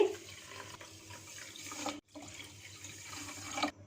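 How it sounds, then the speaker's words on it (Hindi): Water pouring steadily into a pan of sugar to make syrup for gulab jamun, a continuous splashing rush close by that breaks off briefly midway, then resumes, with no talking. "जिस कप से चीनी ली है उसी कप से 2 कप इसमें पानी शामिल कर देंगे।"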